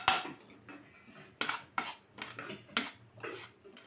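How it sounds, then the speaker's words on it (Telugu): Semolina with curry leaves is stirred and roasted in a pan for upma, giving repeated scraping strokes of a spoon against metal, close and rhythmic, without any talk. "ఇలా ఏమాత్రం మాడిపోకుండా నెమ్మదిగా కలుపుకుంటూ వేయించుకోవాలి."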